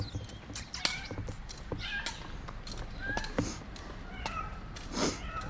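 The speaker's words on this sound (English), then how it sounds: "There's a little cat." A small cat in a quiet Spanish town along the Camino Francés gives several soft, short meows at intervals against light outdoor background noise, fairly close and not loud.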